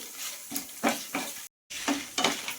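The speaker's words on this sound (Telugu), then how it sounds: "ఇప్పుడు మనం పూర్తిగా వేగే వరకు జీలకర్ర కూడా వేయించుకుందామండి" Cumin seeds frying in a pan, short bursts of crackling sizzle as they are stirred, broken by a brief silent gap, fairly quiet and close.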